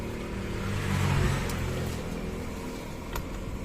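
A jammed electric fan motor on a stuck, seized fan hums steadily, a low continuous drone that swells slightly around the middle and then holds level, with a couple of faint clicks and no voices.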